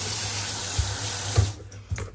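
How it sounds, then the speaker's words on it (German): Water runs steadily into a clogged bathtub drain, a continuous close hiss and splash with a few brief knocks and a drop in level near the end; no voices. "Lasst da mal Wasser reinlaufen"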